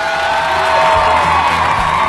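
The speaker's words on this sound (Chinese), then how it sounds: "把掌声送给二位。" At a live show, a studio audience keeps up steady, dense cheering and applause with a roar that stays loud and even throughout, a broad crowd wash without distinct voices.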